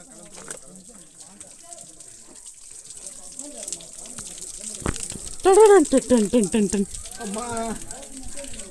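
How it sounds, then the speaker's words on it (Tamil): Water pouring steadily down at the Ahobilam hill temple, a constant rushing wash under people talking and chanting nearby, with a sudden thump midway. "365 நாளும் இந்த தண்ணி பார்த்தீங்கன்னா கொட்டிட்டு இருக்குமா"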